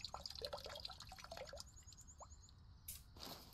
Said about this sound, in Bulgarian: Сега да пия още малко вода.